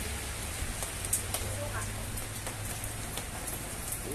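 Rain falls steadily at a wet Philippine market stall selling balut, a dense hiss with scattered drops and taps, while voices talk faintly in the background.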